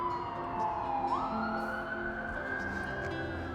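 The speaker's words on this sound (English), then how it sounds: "So that ambulance just went around." An ambulance siren sweeps past on a city street, its wailing tone falling and then rising steadily, moderately distant over a constant traffic rumble, with no voices.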